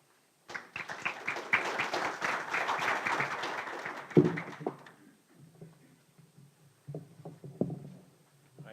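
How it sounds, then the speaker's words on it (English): Audience applause following student poster presentations, a dense burst of clapping for about four seconds that fades out, leaving scattered light taps and quiet room noise. "we can give them one more round of applause"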